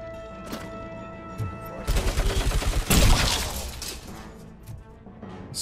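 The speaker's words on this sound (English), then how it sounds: "Heavy machine gun." Heavy machine gun fire in RoboCop: Rogue City: a rapid, loud burst of rattling shots with shattering, crashing impacts, rising to a peak and then tailing off, with no talk over it.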